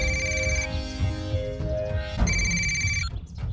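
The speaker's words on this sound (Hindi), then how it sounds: "भाई, घंटी जा रही है।" A telephone rings on an outgoing call, repeated electronic ringtone bursts with a pause between, steady and clear, no talk over it.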